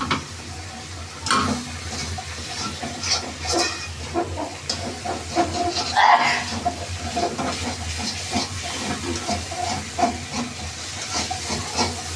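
Fish curry made with fish head (muro ghonto) being stirred in a pan, giving a steady sizzling hiss with scattered scraping and clinking of the spoon throughout.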